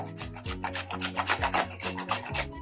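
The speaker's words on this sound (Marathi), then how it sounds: "यामध्ये जायफळ किसून घालते।" A whole nutmeg is grated by hand for coconut rice, giving crisp rhythmic rasping strokes, about a dozen quick scrapes in a steady back-and-forth pattern, close and alone.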